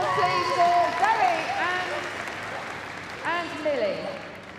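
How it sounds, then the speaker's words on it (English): An arena crowd at Crufts 2012 applauds a competitor finishing a small-dog agility run. The applause forms a steady background wash beneath a voice, which talks over it from start to finish. "Big round of applause, please, for Zoe"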